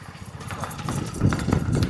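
A mare's hooves clip-clop on a road in a quick, even rhythm, growing closer and louder toward the end, with a faint murmur of background voices.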